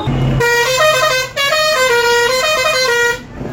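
A loud, powerful multi-tone horn fitted on a bus blares nearby. One long honk is cut briefly, then a second sustained blast follows with a warbling, musical pattern.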